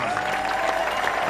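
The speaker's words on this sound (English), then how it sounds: "Les applaudissements pour Anthony" Steady, dense applause from a crowd at the Marathon du Mont-Blanc in Chamonix, clapping for a marathon runner. It holds even and moderately loud throughout, with no voice over it.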